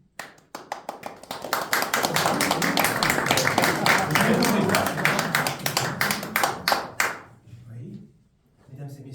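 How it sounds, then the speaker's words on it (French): Theatre audience applauding during a staged play's interval, dense loud clapping that swells for about seven seconds and then fades to a few scattered claps. "Le public applaudit."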